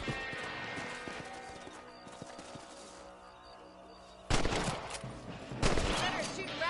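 Rifle shots aimed at rabbits in Red Dead Redemption ring out as two sharp, loud cracks a little over a second apart, after a stretch of hoofbeats and ambient game sound.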